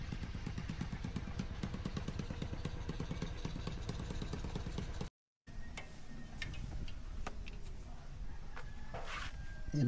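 A repaired motorcycle engine idles close by with a steady fast chugging rhythm that cuts out briefly, then resumes with rougher ticking and clatter.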